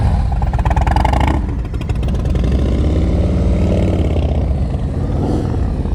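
Motorcycle engine chugging at low RPM during slow-speed riding drills, a loud, close, steady pulsing thump with slight rises and dips in revs throughout.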